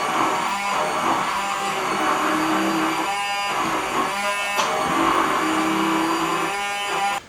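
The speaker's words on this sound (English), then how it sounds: "get all of those herbs, chopped with the blender, nice and infused into this" A blender whirs steadily while whipping fresh herbs into homemade mayonnaise, giving a continuous close motor whine with slight surges in pitch and load as the mixture thickens.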